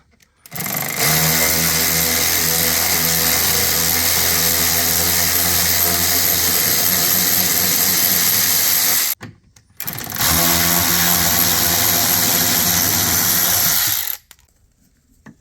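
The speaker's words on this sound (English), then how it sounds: "Instead, I'm going to use this 1/4-inch socket with a Phillips head bit in it." A power tool driving a 1/4-inch socket fitted with a Phillips bit runs loud and close to remove screws on a New Edge Mustang, two sustained whirring bursts separated by a brief pause, then stopping.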